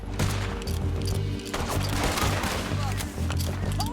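Gunfire in the video game Red Dead Redemption 2 during a shootout, dense rapid shots layered over game music and noise, loud and continuous, with a voice speaking over it.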